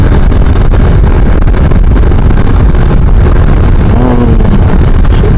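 Strong wind roars steadily against the microphone while riding a motorbike on a road trip from Tirupati to Kalahasti, a loud continuous buffeting rush with engine and road noise mixed underneath.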